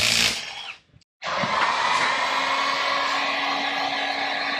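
A Milwaukee heat gun on its high setting blows a loud, steady whooshing hum while heating the dented metal body panel of a 2017 Tesla Model S 75D, briefly cut off and then restarted at full blast.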